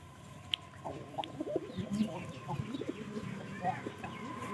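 Pigeons in a home pigeon loft in winter give soft, repeated low coos, with occasional brief clicks and flutters. A few calls stand out close by, and a person talks faintly in the background.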